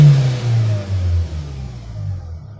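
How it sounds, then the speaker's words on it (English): A 2020 Hyundai H-1 Elite twelve-seat bus with a diesel engine revs up close, a deep throaty climb that surges and dips a few times before settling back toward idle, with no talking. "Let me just rev it for you"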